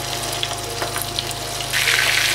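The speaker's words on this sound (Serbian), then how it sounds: "rebra ćemo da spuštamo i da pržimo" Pork ribs frying in hot oil in a wok, a steady broadband sizzle that holds close and even throughout, then grows louder and brighter near the end.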